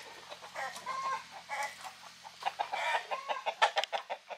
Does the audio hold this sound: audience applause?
no